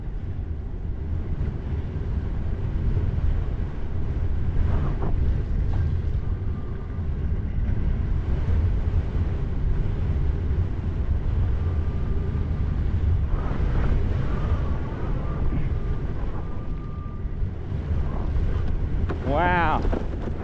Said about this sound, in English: This is a pretty gnarly gust